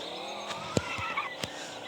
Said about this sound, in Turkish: Drift attım oğlum